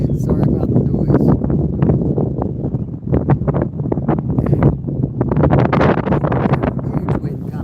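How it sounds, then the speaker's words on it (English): Strong wind gusts roar across the microphone outdoors on open water with whitecaps, a continuous loud buffeting rush with rustling and flapping underneath. "Big gust of wind."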